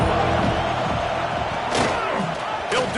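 A football stadium crowd roars continuously on a big third down in an Oregon versus Tennessee game, loud and dense throughout with occasional sharper bursts of cheering.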